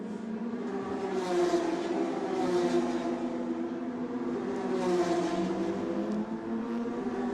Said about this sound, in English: this is that moment where cars are starting to peel back into the pits